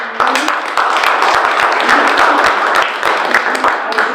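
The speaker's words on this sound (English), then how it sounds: "let's give them a round of applause." An audience claps after a presentation at a business event, a dense, steady patter of many hands that holds for about four seconds.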